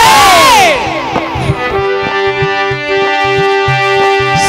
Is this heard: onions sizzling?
no